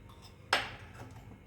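A single faint metallic clink of a spoon against a pan of hot oil as salt goes in, set against a quiet background.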